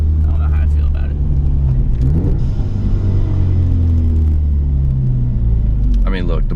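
Ford EcoBoost Mustang fitted with a muffler delete and a catless downpipe, its exhaust rumbling loud and deep at low revs, rising and falling through several throttle changes close to the car, with a brief burst of higher noise near the end.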